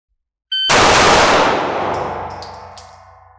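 A single loud gunshot from a 9mm pistol fitted with a binary trigger cracks after a brief silence, then rings out in a long fading decay with faint metallic clinks as the tail dies away.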